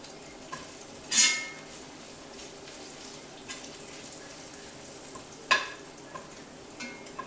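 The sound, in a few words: stirring vegetables frying in a pan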